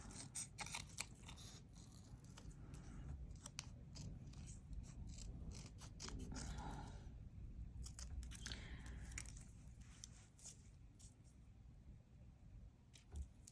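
Scissors trim around a glued image for a junk journal, small close snipping and rustling clicks scattered irregularly over a faint background hiss, with no talking.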